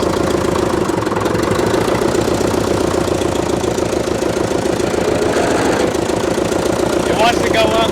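A 1941 International Harvester TD-14 World War II bulldozer, abandoned for 25 years, runs with a loud, rough, steady diesel clatter throughout, close up and unbroken.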